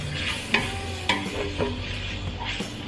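Ground meat sizzling with garlic in a pan as it is stirred, giving a steady frying hiss with a few scraping strokes of the utensil roughly every half second, close and clear.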